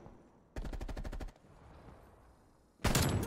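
Gunfire in a shooter video game: a rapid automatic burst of about a dozen evenly spaced shots, a quieter stretch, then another loud burst near the end, with no talking.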